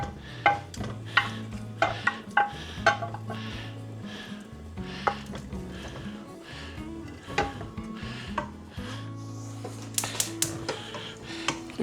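Homemade meatballs being spooned one after another into tomato sauce in a pan, giving a run of soft clinks, scrapes and wet plops with a gentle sizzle, close and steady with background music playing underneath.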